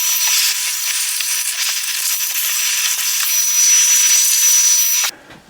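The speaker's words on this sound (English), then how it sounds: "So I'll just hoover that up and then I'll show you the trick." A Festool shop vacuum hoovers up sawdust in a workshop, a loud continuous hissing whoosh that cuts off sharply near the end.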